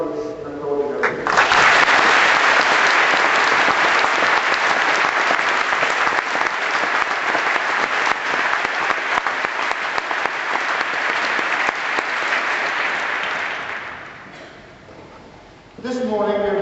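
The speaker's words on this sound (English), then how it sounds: "So please join me in applauding her." Sustained loud applause from a graduation ceremony audience honouring a PhD graduee, with steady dense clapping that holds for about thirteen seconds before fading out and brief talk at either end.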